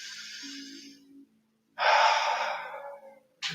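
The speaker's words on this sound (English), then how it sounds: "Nice deep breaths." Deep breathing during yoga: a long audible exhale with a faint hum, a pause, then a strong, loud breath out and the start of another close to the mic.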